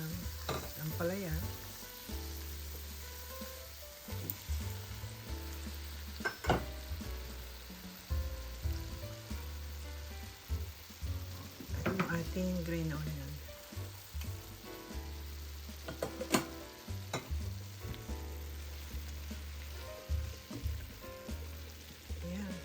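Bitter gourd (ampalaya) sizzles and fries steadily in a pan as it is sautéed, with occasional stirring and scraping clatter over the continuous crackle.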